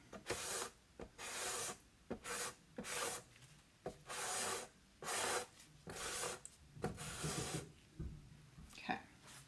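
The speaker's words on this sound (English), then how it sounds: "squeegee it off some more." A squeegee scrapes wet etching cream off a surface in a run of about ten short, close, rasping strokes with brief pauses between them, at a moderate level and with no talking over it.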